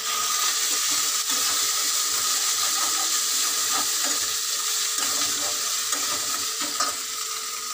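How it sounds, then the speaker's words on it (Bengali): Ginger and cumin paste fries steadily in hot oil, a loud, continuous close-up sizzle with scattered spattering pops throughout and no talk. "আদাটা বাটা দিলে পরে আদাটা ছিটকাতে থাকে তেলের মধ্যে"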